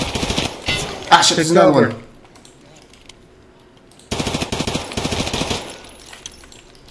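SKS rifle with a ten-round internal magazine fired in a multiplayer PvE shooter game: rapid sharp gunshot bursts at the start, then a quiet gap, then another dense run of shots, with a player talking over the first burst.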